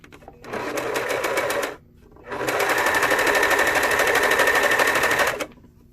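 A serger sewing machine stitches fabric past its cutting knife in two loud, steady whirring runs: a short burst, a brief pause, then a longer stretch, with no voices.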